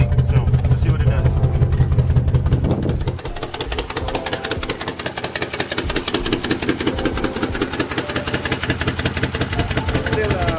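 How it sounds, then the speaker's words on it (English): A Ford 4.6L engine idles roughly after a spark plug install, its exhaust giving a loud, steady, rapidly pulsing drone that stays close and constant throughout. "the only noise we're getting is from the exhaust"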